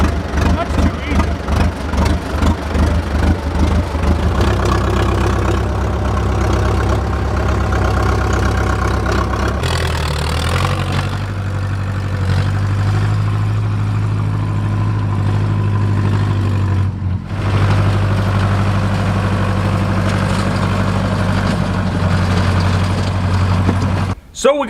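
A low, steady engine idle rumbles throughout from an old tractor started for the first time in ten years, parked in front of a garage, with a voice talking over it during the first part.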